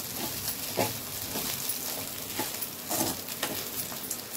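Poha upma stirred in a pan on a low flame, soft spoon scrapes recurring every second or so over a gentle, constant sizzle, close but quiet.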